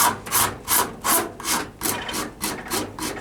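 Regular strokes of a fine-toothed rasp shaping a hickory bow, about nine even back-and-forth rubs at a steady rhythm, close and fairly loud with no talk.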